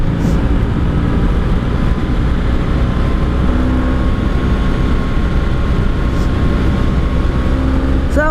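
A 1984 Honda Sabre VF1100S motorcycle riding on back roads, its engine a loud, steady, low rumble heavily mixed with wind noise, heard from the rider's position throughout with no pauses.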